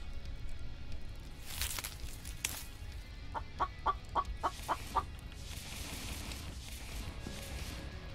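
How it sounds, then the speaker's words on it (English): Chickens clucking in the survival video game The Infected, a quick run of about six sharp clucks at mid distance over a steady ambient game background, with no talk. "Somebody else hear a chicken?"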